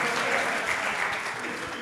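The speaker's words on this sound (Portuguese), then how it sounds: "Aplausos pro Valdemir." Studio audience applauding on a Brazilian comedy show, a dense steady wash of clapping that holds for a couple of seconds, loud and close, with some background voices mixed in.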